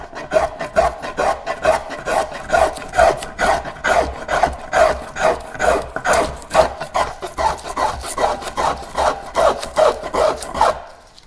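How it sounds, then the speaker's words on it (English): A spokeshave shaves a wooden paddle in steady back-and-forth strokes, a close, rhythmic rasping scrape repeating about twice a second with no talking. "There's a lot to say about spoke shaving."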